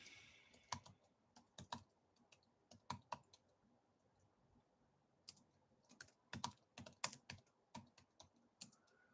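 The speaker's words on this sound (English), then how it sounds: "So let me type that in." Someone types on a computer keyboard, with bursts of crisp, close key clicks in irregular clusters separated by short pauses, quiet and alone.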